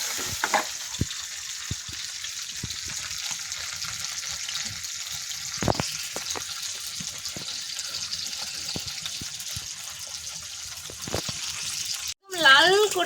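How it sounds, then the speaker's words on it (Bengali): Tilapia fish frying in hot oil gives a steady, close sizzle with scattered pops and crackles, then a brief break and a louder, rougher burst at the very end. "তেলাপিয়া মাছগুলো দিয়ে দিলাম তেলাপিয়া মাছগুলো ভেজে নেবো"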